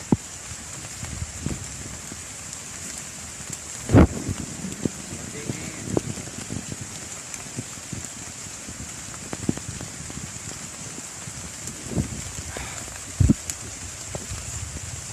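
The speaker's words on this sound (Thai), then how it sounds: "ฝนตก" Steady rain patters on the surface of a forest, with scattered drops and occasional louder thuds over a constant hiss, and a voice speaks briefly now and then.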